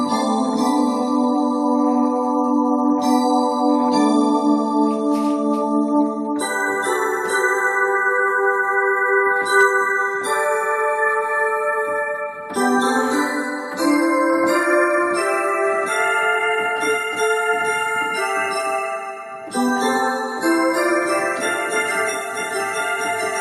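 A Roland D50 synthesizer plays its internal piano patch 11, sustained harmonic chords and note runs ringing continuously at steady loudness with no talking.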